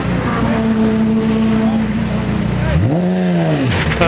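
The Bull Run Lotus race car at Brands Hatch during a night round of the 2012 Britcar Championship: a loud, steady engine note that dips and climbs again in pitch, with commentary over it.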